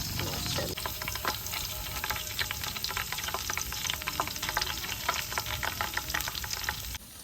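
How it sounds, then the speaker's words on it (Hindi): Garlic frying in hot oil in a pan, a dense, steady crackling sizzle that stays loud and close throughout with no talk over it. "लहसुन हमारा जो है अच्छे तरीके से ब्राउन हो चुका है।"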